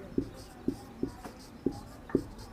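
Chalk or marker writing on a teaching board in a classroom, five short scratchy taps in a quick, fairly even rhythm, close and moderately loud.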